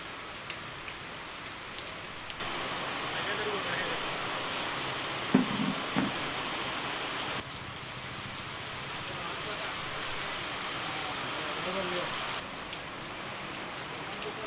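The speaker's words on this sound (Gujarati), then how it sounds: "વહેલી સવારથી ઝરમર વરસાદી ઝાપટા પડ્યા" Light drizzle showers of early-morning rain fall in Gujarat, a steady soft patter and wash of drops on surfaces, continuous and moderately close, with a few brief knocks midway.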